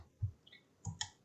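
A few soft, quick clicks sound close by, like a computer mouse being pressed, with faint electronic chirps between them.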